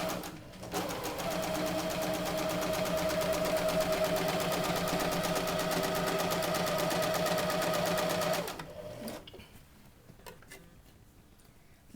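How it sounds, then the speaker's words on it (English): A sewing machine stitches a seam on a fabric pencil skirt in one continuous, even run of rapid ticking for about eight seconds, then stops, leaving quiet fabric handling. "You're going to sew using a 1/4 inch seam."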